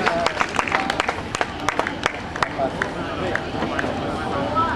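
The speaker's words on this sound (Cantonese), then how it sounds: "我哋嘅掌聲，我哋加油！" Crowd at a strongman record-breaking event claps in scattered, irregular bursts, the clapping fairly close, with a commentator talking over it throughout.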